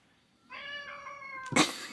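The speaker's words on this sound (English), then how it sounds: "one of our cats is very specifically needing us" A pet cat gives a drawn-out, clear meow, close and alone, followed by a short louder rustle or thump near the end.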